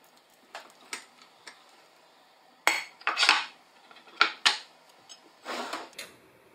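Knife cutting through a bar of handmade soap held steady with a stick, scattered sharp clicks and scraping strokes, close and fairly quiet, with louder bursts in the second half and no talk.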